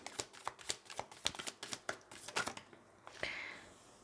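Tarot cards being shuffled by hand, a quick run of crisp riffling snaps and flutters ending in a softer sliding swish, close and alone with no voices.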